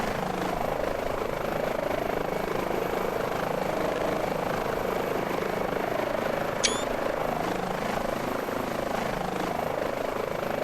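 An Airbus H145 helicopter in Microsoft Flight Simulator holds a steady, droning rotor and engine whir throughout, continuous and even, with a brief faint electronic chirp partway through.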